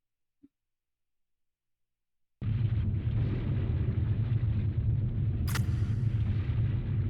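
A huge, sustained explosion roars in the video game MS Saga: A New Dawn, a thick low rumble that starts abruptly after near silence and holds steady, with a brief sharp crack partway through.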